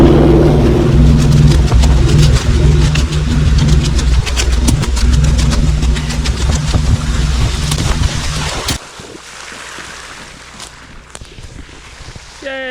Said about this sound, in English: We're pumping water.